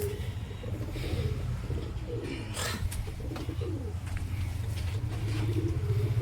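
Flying pigeons in a coop give low, steady cooing under a constant rumble of passing traffic, with a few brief rustles and flutters.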